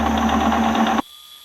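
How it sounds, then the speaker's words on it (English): A lathe machining 304 stainless steel at about 500 RPM while repairing an explosion-proof brake motor, a loud steady mechanical drone with a whine that stops abruptly after one second, leaving a faint hum. "This is 304 stainless, so I'm keeping the RPMs at about 500."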